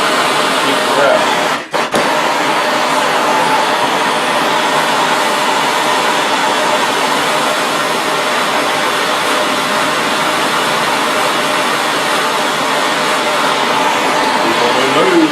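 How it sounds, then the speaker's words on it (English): Steady roaring torch flame held against a knife blade from a Fox Ridge Arms custom knife making kit, a loud continuous hiss throughout with a brief dip near the start. "Get the initial blade heat, the biggest part of the blade heated up, and start traveling with our torch"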